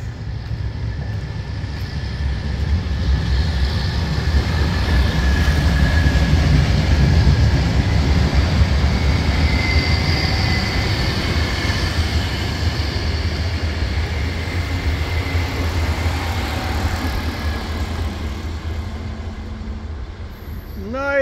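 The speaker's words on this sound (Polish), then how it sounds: "SKPL w Krakowie. Właśnie przejeżdża pod estakadą." SKPL train passing under a flyover in Kraków, heard as a steady, loud rolling rumble sustained for about twenty seconds, with faint high squeals over the low drone.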